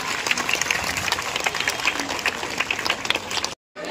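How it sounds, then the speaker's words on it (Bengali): Warm applause from an audience at a district event honouring swimmers of a long-distance swimming race, dense steady clapping throughout with some voices mixed in, cutting off abruptly near the end. "একটু জোরে হোক না তালিটা।"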